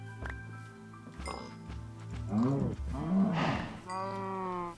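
Cows in the video game Minecraft give several drawn-out, low moos one after another, close and fairly loud, ending in a longer wavering moo.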